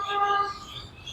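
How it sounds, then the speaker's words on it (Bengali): Short, thin chirping bird calls, fairly faint and a little distant, over quiet outdoor ambience. "পাখির ডাক শুনতে পাচ্ছে"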